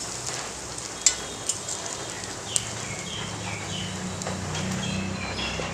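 Chopped garlic and a pinch of chili powder fry in a pan for a taro-leaf dish, giving a faint, steady low sizzle with a few sharp clicks and pops early on.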